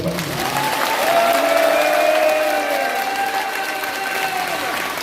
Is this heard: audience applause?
yes